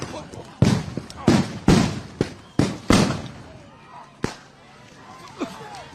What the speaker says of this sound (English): They're shooting grenades at people.